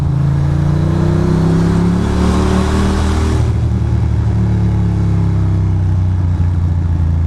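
A Ducati Monster motorcycle engine runs loud and close, its low rumble rising in pitch as it revs up, then settling into a steady throbbing idle, with no voices.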